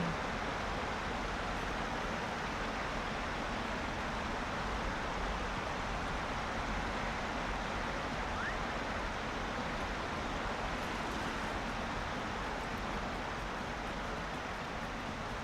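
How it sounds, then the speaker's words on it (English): A loud waterfall in the Lord of the Rings Online video game roars as a steady, unbroken broadband rush, constant in level throughout with no other sounds standing out. "Another loud waterfall."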